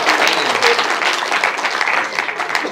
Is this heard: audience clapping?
yes